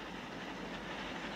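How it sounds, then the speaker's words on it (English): A train rolls steadily across a bridge, giving a dense, continuous rumble and rattle of wheels on track, even in level and unbroken from start to end, with no voices. "The train keeps moving along."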